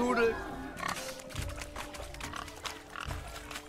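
A pig in the video game Witcher 3: Hearts of Stone oinks and grunts in a string of short bursts, close and clear, with game voices talking over and between them.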